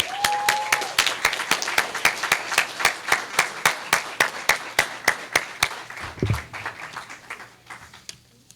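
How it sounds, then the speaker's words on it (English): A small honor society induction audience claps in a steady, rhythmic beat of sharp hand claps that gradually thins out and fades near the end. "please give these inductees a round of applause."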